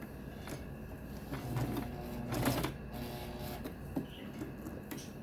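A sewing machine stitching slowly through thick layers of denim while cutting old men's jeans into shorts. The motor hums and thuds at close range, swelling in short bursts with faint clicks between them and no talk.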